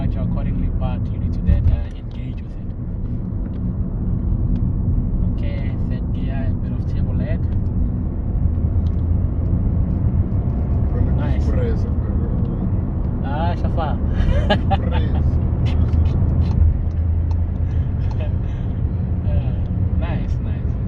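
Volkswagen Polo 1.0 TSI Life engine pulling in third gear, a steady low in-cabin drone with rising tone under intermittent speech from the driver throughout.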